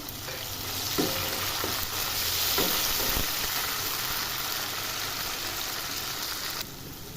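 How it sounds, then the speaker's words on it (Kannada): Chopped tomato frying in oil for a simple potato kurma, a steady broadband sizzle with a few soft stirring knocks early on, fairly close and continuous, easing slightly near the end. "ಹಾಕಿ ಸ್ವಲ್ಪ ಚೆನ್ನಾಗಿ ಎಣ್ಣೆಲೇ ಫ್ರೈ ಆಗಲಿ ಇದು ಟೊಮೆಟೊ"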